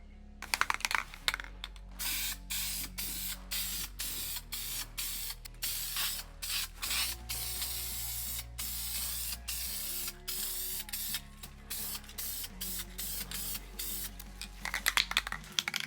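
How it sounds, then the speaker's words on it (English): Self-etching primer sprayed from an aerosol can onto bare welded metal of a rusty car floor repair, a loud close hiss in repeated bursts broken by short pauses, with no talking. "it's time for some self-etching primer"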